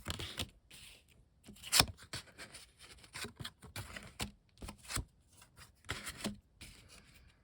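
Tarot cards being shuffled and drawn for a reading, heard as a run of soft papery riffles, slides and flicks with quick bursts, fairly close and quiet, no talking.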